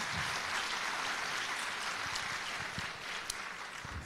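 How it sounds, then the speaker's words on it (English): A room of people claps at a senior awards program in Northfield, a soft, steady spatter of applause heard from some distance for a few seconds. "Let's give them one more round of applause."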